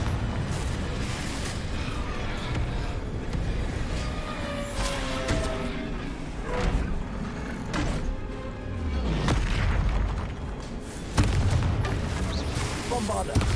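Repeated Confringo spell blasts in a Hogwarts Legacy battle fire as a rapid string of booms and crackling bursts. Whooshes and crashes mix in, and a person talks intermittently over the fight.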